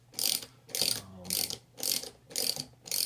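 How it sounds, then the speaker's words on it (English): A wrench ratchets on nylock nuts while the bolts come off a Pearson pump. Six even, clicking bursts about half a second apart sound close and clear, with no talk. "these will need to get unscrewed with a wrench"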